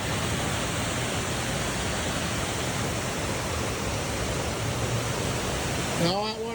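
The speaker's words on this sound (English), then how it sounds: "And all that water coming down there, going to this creek down here." Water from a waterfall by a lake tumbles into a creek with a constant, loud rushing hiss, and a voice briefly cuts in over the roar at the very end.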